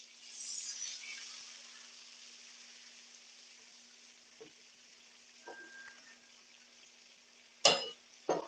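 Onions and pureed garlic fry in a pan in a Louisiana seafood kitchen, a soft sizzle strongest at first and then easing off, with a few sharp utensil clinks near the end.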